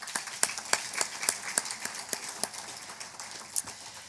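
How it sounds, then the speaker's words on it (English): Scattered, thin applause from an audience at an award luncheon, a handful of separate claps rather than a full ovation, moderately distant and fairly quiet. "So for that, I'd like to give them a round of applause."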